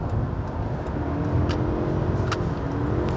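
A Toyota Camry Hybrid accelerates with the pedal pressed to the floor, giving a steady, even drone of engine and road noise inside the cabin that holds level throughout, without sharp revving.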